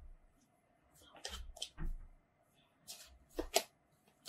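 Tarot cards flipped and slapped down onto a surface, several soft rustling flicks and light taps in irregular bursts, close and fairly quiet with no talk.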